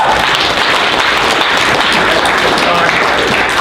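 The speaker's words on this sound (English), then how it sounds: "Give Kitty a round of applause." A small group at an acting workshop gives a loud, close, continuous round of applause, a dense steady clatter lasting the whole few seconds without a break.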